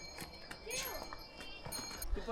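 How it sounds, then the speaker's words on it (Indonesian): Hooves clip-clop on a mountain trail on the way to Annapurna Base Camp in Nepal as a horse carries a kid. The hoofbeats are irregular and moderately close, under steady talk. "Bocil naik kuda."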